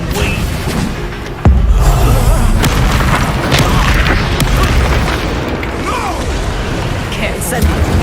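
A Confringo explosive spell blast in Hogwarts Legacy hits with a sudden loud boom, then a dense wash of crackling, rumbling combat effects that continues steadily and stays loud throughout.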